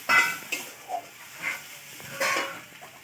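Spices and chillies are stirred as they fry in a pan: a soft sizzle broken by several short scraping strokes, fairly faint and close, with no speech.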